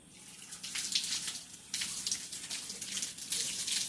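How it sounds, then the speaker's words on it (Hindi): Water splashes quietly during wudu ablution as the face is washed, in soft running and splashing bursts with a brief lull partway through. "3 मरतबा चेहरा को धो लेते हैं।"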